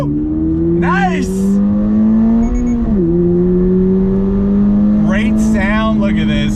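A 2022 Toyota GR 86 sports car accelerates hard on throttle through hilly upstate New York roads, its engine note climbing steadily in pitch with a brief shift dip, loud and close under excited cheering voices.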